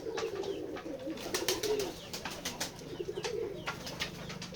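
Pigeons at an open-sided village farm in Jessore coo steadily in low rolling phrases close by, with sharp clicks and knocks of movement scattered through.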